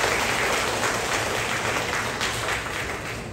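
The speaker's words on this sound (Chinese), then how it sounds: "掌声鼓励鼓励。" Sustained audience applause fills the hall at a model fathers' commendation ceremony in Tuken Township, Yunlin County, a dense steady clapping that stays loud throughout and eases slightly toward the end.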